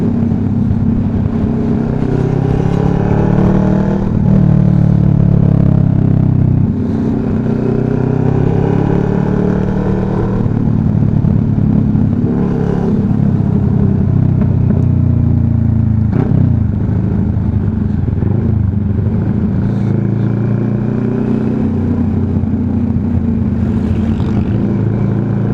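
Motorcycle engine under way just after its first oil change, with a continuous droning hum that rises and falls slightly as the bike rides along, steady and fairly loud with no talk.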